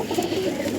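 A brief, low, gentle burble of cooing from star pigeons kept in a loft, soft and continuous throughout.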